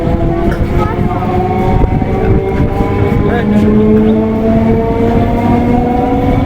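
A crowded local train pulls out of Kazipara station, a loud continuous rumble of wheels and carriages with long tonal squeals and whining rising over it, close and steady throughout.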